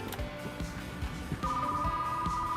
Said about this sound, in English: And I'm getting a damn phone call at the same time.